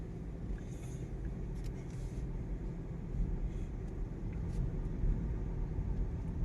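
A car engine pulls away in drive gear, a steady low rumble that grows slightly louder as it moves off, with faint road and cabin noise.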